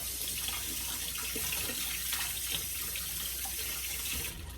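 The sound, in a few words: tap water rinsing after cutting onions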